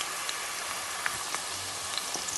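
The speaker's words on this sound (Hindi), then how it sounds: "250 ग्राम ऑयल गरम कर लिया है और इसके अंदर ये हम अपना प्याज डालते हैं, इसे फ्राई करते हैं" Sliced onions fry in about 250 grams of hot oil for mutton kofta, giving a steady, even sizzle that crackles softly and runs on alone without pause.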